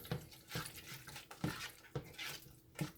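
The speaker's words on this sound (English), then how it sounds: "We're gonna give this a stir" A spoon scrapes and clacks through thick shrimp macaroni and cheese in a pan, six sharp knocks spaced at a steady rhythm over soft, wet stirring, close and fairly loud, with no voice.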